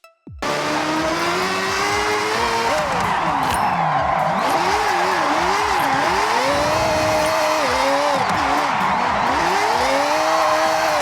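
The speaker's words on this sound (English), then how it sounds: "E-brake drifting is used to prepare you for either an initiation, entry, or correction in drifting." A car drifting with the e-brake in Forza Horizon 6 gives loud continuous engine revving that rises and falls, with sustained tire squeal and skidding throughout.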